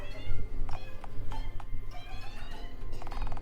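A cat meows in the video game Dialtown, several short tonal calls spaced through the clip over a busy, loud bed of game music and ambience.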